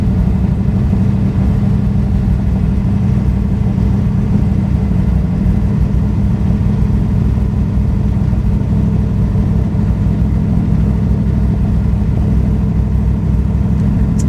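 A race car engine fitted with an Edelbrock VRS 4150 carburetor idles steadily with a loud, low rumble that holds an even, unbroken level for about fourteen seconds, with no voices.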